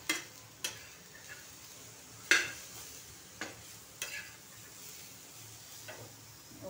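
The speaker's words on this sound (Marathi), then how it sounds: "मटर पनीरसाठी कांदा भाजत आहे।" Onion frying in a pan for matar paneer, a soft steady sizzle broken by several sharp scrapes and clinks of a spoon stirring against the pan, faint and close.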